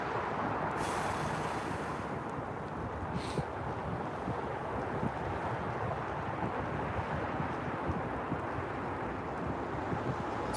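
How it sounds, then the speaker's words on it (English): Steady, roaring wind buffets the microphone on an open frozen lake during winter ice fishing for walleye, a constant loud rush with a few stronger gusts and no talk. "I'm just getting smacked in the face by the wind right now"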